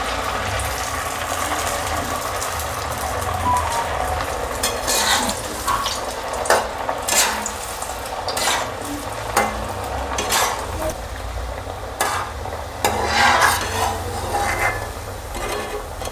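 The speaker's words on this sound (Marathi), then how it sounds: "आता मी तळून घेते. तेल गरम झालेलं आहे." Cabbage vadi pieces fry in hot oil with a continuous bubbling sizzle, punctuated by clinks and scrapes as pieces are added and turned, moderately loud and close, without speech.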